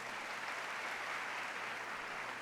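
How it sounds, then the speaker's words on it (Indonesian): A church congregation at a Bethany Nginden service claps together in a steady, dense wash of applause that holds evenly throughout, with no voices rising above it. "sekali lagi berikan tepuk tangan yang meriah."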